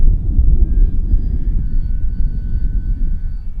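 A Bigfoot 1300mm ready-to-fly RC airplane with vector stabilization passes overhead, its electric motor a steady, loud low drone with a faint high whine, heard alone without talk.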